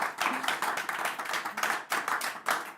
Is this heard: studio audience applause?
yes